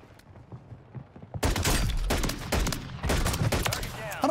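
Rapid bursts of gunfire from the shooter game Warzone 3 erupt after a quiet start, loud and sustained, with brief gaps between volleys and faint speech in the background.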